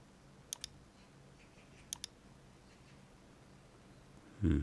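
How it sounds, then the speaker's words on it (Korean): Sharp computer mouse clicks while working in Photoshop, two quick double-click pairs spaced apart, fairly close and clean over a quiet room, followed by a brief louder low thump at the end. "컨트롤 누르고 찍으시고 자, Alt 누르고 클릭하시고 컨트롤 T"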